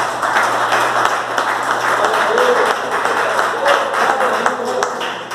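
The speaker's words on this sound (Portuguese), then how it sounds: "podem aplaudir a Jesus, porque Jesus merece." A church congregation applauds with dense, steady clapping, close and fairly loud, with a faint low hum beneath and some voices mixed in.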